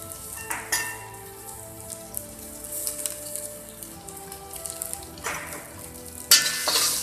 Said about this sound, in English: Then we need to add chopped ginger garlic also.